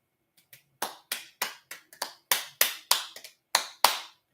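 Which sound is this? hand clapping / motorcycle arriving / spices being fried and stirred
hand clapping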